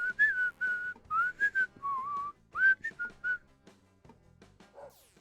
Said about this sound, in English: I can breathe in and whistle.